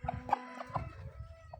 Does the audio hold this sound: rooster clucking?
yes